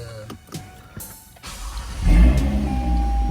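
A car engine cranks and catches, its idle rumbling steadily after a few clicks and rustles inside the vehicle.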